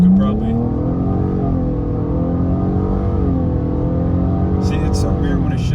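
A 2018 Nissan Maxima accelerates with its engine droning loud and close, the pitch climbing and easing as the transmission shifts on its own, with a voice talking over it near the end.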